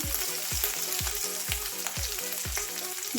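Grated ginger pieces frying in leftover oil for temple-style pulihora, with a dense, steady sizzle and regular low thumps about every half second underneath.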